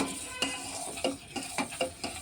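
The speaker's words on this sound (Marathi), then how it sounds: "सतत आपणाला याला चमच्यानं असं हलवून घ्यायला लागतं आणि दूध असं हलकंसं घट्ट बंडा करायचं" A spoon stirring boiling milk for Rooh Afza kulfi, with repeated light scraping clinks against the pot every half second or so over a soft bubbling background.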